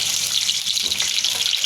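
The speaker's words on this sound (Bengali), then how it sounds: "আলুগুলো লাল লাল করে ভেজে নেব।" Potatoes frying in hot oil in a wok, a bright, hissing sizzle that stays close and steady through a short burst with no speech.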